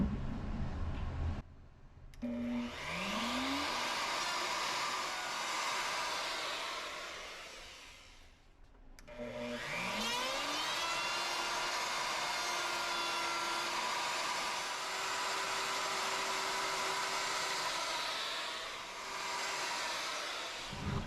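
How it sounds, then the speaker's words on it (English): Plunge router fitted with a round-over bit curving the edges of a wooden gun case, a loud steady high whine that spins up, dips briefly as it winds down, then restarts and runs on. "Next, I'm going to use this plunge router and use a round over bit to try to curve the edges just a little bit on this."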